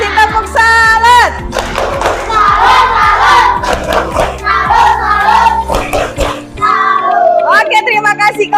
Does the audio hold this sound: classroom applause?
yes